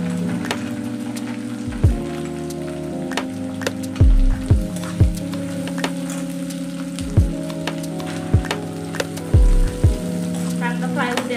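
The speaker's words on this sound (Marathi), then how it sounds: "चांगलं फ्राय होऊ द्यायचं" Peanuts, curry leaves and pounded thecha fry in hot oil in a pan for a bharit dish, giving a loud, continuous crackling sizzle with several sharp knocks and scrapes of a stirring spoon, and no one speaking.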